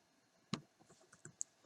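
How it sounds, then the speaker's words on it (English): A few scattered keystrokes on a computer keyboard while entering CSS values, quiet and close, with brief sharp clicks separated by short pauses and no talking. "type it in."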